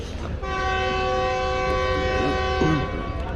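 The Karakoram Express departs Kotri Junction, a long, steady, loud horn blast sounding close by over station rumble and lasting several seconds.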